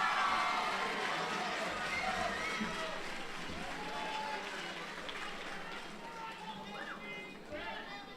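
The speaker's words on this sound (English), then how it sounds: "Please give one more round of applause for our construction tech." Audience applause at a 2015 Manual Tech graduation ceremony for construction tech graduates, a steady wash of clapping from a large crowd with voices mixed in, gradually thinning toward the end.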